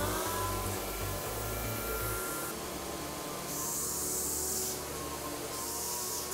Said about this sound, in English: and then turn on the vacuum.